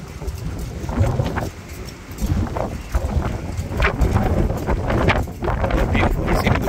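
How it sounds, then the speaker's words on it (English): Gusty wind buffets the microphone near the floating mosque on the Jeddah waterfront, a loud, continuous low rumble that swells and dips in uneven surges throughout. "The wind is hitting me now"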